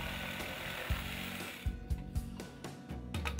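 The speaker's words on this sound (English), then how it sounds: "Use a jigsaw to cut out the rough shape." A jigsaw cutting the rough shape of a wooden picnic table bench piece, heard as a steady buzzing saw drone with a few low thumps, then choppier bursts as the cut ends.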